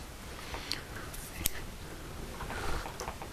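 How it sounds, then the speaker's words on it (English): Scissors trim the tying thread on a small midge emerger fly, a single faint snip against a quiet background. "I'll go ahead and trim that thread off."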